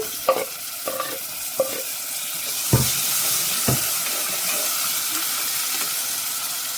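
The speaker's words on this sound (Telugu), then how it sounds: "ఉల్లిపాయ ఇట్లా గోల్డెన్ బ్రౌన్ కలర్ వచ్చిన తర్వాత ఇప్పుడు టమాటోస్ యాడ్ చేస్తున్నాను" Tomatoes dropped into a pan of golden brown fried onions and curry leaves, a few soft thuds and scrapes giving way to a loud, continuous hiss of frying that holds steady to the end, with no voices.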